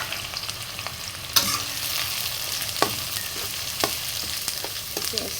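Onions and bay leaves frying in oil in a pan for a country-style Bengali duck curry: a steady, close sizzle with a few sharp clinks of a stirring spoon.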